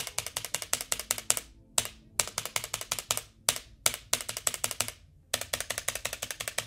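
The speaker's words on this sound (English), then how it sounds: "So I'm going to start with just the space bar test." The space bar on a ROCCAT Vulcan II Mini keyboard is pressed over and over in quick, even bursts of crisp, clacking keystrokes, with a few short pauses between runs, all close and clear.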